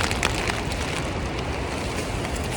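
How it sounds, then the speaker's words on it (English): Steady loud winter rain hisses continuously in Glen Feshie in the Scottish Cairngorms, with a rough gusty wash of wind blowing through it; no one speaks. "as you can hear, it's pissing rain"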